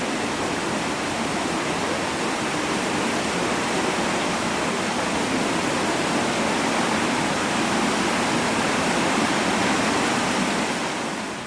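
The restored water wheel of Stotfold Mill, a flour mill with restored millstones, turns with a loud, constant rush of churning water that fills the whole stretch without a break.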